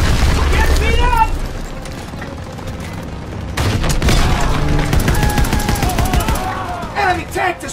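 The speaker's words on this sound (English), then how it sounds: "Enemy tank destroyed!" Explosions and bursts of gunfire from tank combat against a German Panzer in Call of Duty: WWII, loud and dense, with booming blasts near the start and middle and game voices shouting over the battle.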